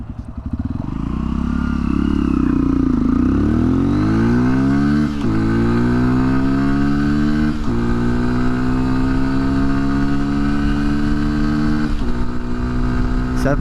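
A Honda XR150L motorcycle accelerates hard from standstill to 40, its engine rising in pitch through several gears with brief dips at each shift, loud and close throughout.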